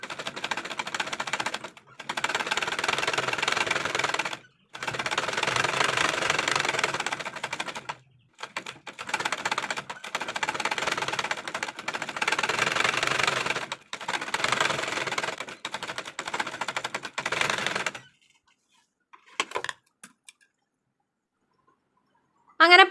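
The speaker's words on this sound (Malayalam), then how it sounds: "അങ്ങനെ ഈ ഒരു 3 സൈഡും പൈപ്പിംഗ് വെച്ച് ഞാൻ തയ്ച്ചെടുക്കുകയാണ് കേട്ടോ." A sewing machine stitches piping around a kurti neck in repeated close, steady bursts of rapid whirring, each run several seconds long with short pauses between, ending in quiet.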